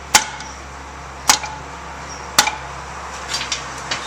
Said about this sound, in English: Get yourself a good dead blow hammer.